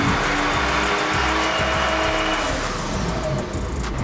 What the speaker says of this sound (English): let's put it on the dyno and see if we get any extra horsepower and torque